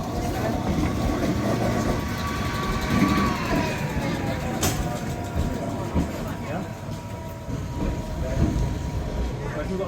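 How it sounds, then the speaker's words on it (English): A train engine at Sóller, Mallorca rumbles past on its way to the front of the train, a low steady mechanical drone with a brief sharp clank midway, heard alongside station ambience. "There goes the engine, moving to the front."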